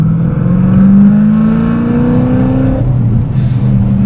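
A powerful 750-horsepower Corvette engine roars close by, its pitch climbing steadily as it accelerates, then drops away into a lower idle.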